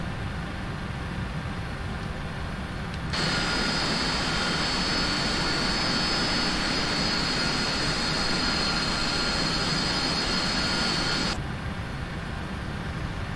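Jet engines of a PMDG 747-400 spooling up during start in the Prepar3D flight simulator, a loud steady roar with a high whine that holds for several seconds before easing back, with no talk.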